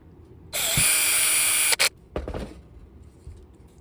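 A power driver sinks a 1.5-inch screw into a shotgun frame in one loud, steady whir lasting over a second, followed by a sharp brief burst and scattered clicks and handling noises.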